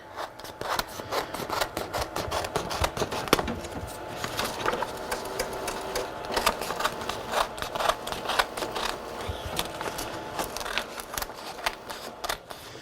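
Scissors snip away excess paper around a coaster in quick repeated cuts, a crisp, uneven run of sharp snips and rustles close to the listener.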